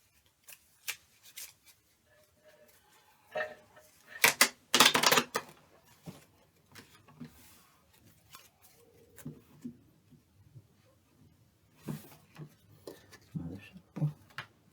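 Tarot cards are shuffled and snapped together in bursts of papery riffling and crisp clicks, with quiet pauses between.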